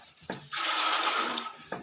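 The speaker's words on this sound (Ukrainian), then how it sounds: "Наливаю." Milk drink for calves is poured into a container in one steady splashing stream lasting about a second, framed by brief knocks before and after, close and fairly quiet.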